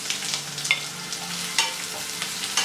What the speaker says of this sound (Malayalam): ഇനി ഇതിലേക്ക് ഒരു ചെറിയ സവാള നീളത്തിൽ മുറിച്ചതും കൂടെ ചേർത്ത് വീണ്ടും നന്നായിട്ട് വഴറ്റി കൊടുക്കണം